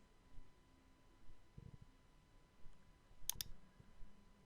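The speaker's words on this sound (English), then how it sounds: "click on the icon marked PDF" Two quick computer mouse clicks, close and crisp, while clicking an on-screen PDF export icon in ScanNCut CM design software; faint room hiss otherwise, no talking.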